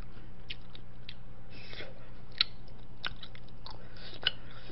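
Crunchy chewing on tteokbokki, spicy Korean rice cakes, heard as soft, close mouth sounds with a few sharper crisp bites over a low steady background hum.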